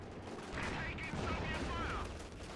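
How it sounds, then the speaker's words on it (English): Panzer IV tank cannon fire in a real-time strategy battle, a dense run of gunshots and booming blasts mixed with other combat noise and fairly distant, with faint game voices underneath. "Huge shots from the Panzer IV."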